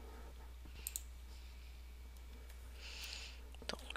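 Faint computer mouse clicks while editing a link in Google Drive, a few sharp isolated taps spread out over quiet background hum, with a soft click pair early and a quick cluster near the end.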